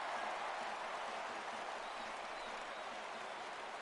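A baseball stadium crowd rises and cheers for a full 3-2 count, a steady, broad roar of applause and noise from the stands that holds at an even level throughout.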